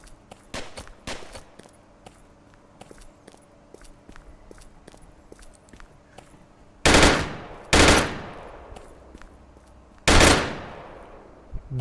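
Gunfire in the VR battle royale game Virtual Battlegrounds: three loud, close shots with ringing tails, heard after a run of quieter clicks and light footsteps.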